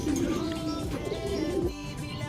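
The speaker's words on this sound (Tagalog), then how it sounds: "O, yan yung pangalawang ibon natin, si Tiny, tsaka si Janso." Pigeons coo softly and repeatedly in a steady low murmur, with faint chirps and outdoor background noise throughout.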